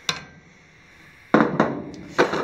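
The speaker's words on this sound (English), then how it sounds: "line up the piece as best you can, and then you're going to smack it with a hammer" A hammer striking a marker-coloured metal piece being fitted against a Ducati 250 motorcycle frame foot peg mount: one sharp hit, a pause, then a quick cluster of ringing metallic blows, close and loud with no talk.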